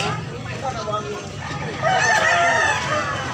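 A rooster crows loudly and nearby amid a Cebu gamefowl market, other chickens clucking around it and people talking in the background crowd.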